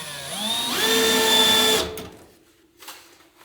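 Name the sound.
power drill driving screws through metal strapping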